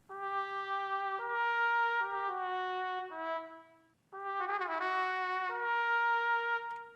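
A sampled trumpet from a Spaghetti Western library plays a sustained melody for a South American-inspired trap beat, held notes with a brief gap before a bending, ornamented phrase, heard alone.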